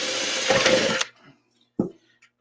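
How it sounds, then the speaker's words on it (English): A power drill drilling holes in the metal top of a hobo stove whines loudly for about a second, then cuts off, followed by a brief short burst of drilling after a pause. "Let's drill some holes in the top."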